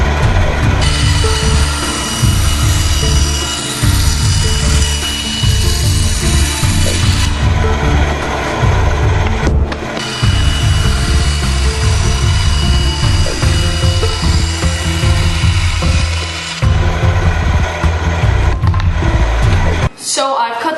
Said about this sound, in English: I'm going to head over to the bandsaw and cut this mark off real quick